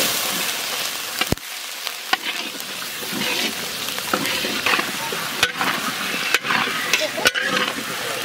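Potatoes tipped into a pan of frying spices, cumin paste and green chilli for a big vola fish curry, sizzling and crackling steadily with occasional stirring clatters, close and fairly loud throughout.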